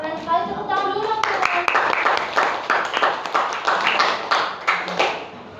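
Junior high students in a classroom applaud after a panel discussion, with loud mixed clapping that swells in rhythmic waves and a voice speaking briefly at the start.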